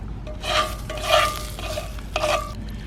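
Ribeye steak seasoned with olive oil and Montreal steak seasoning sizzles on a hot skillet over a campfire in Denali National Park, Alaska, a steady loud hiss that swells in several bursts as the meat is moved and pressed.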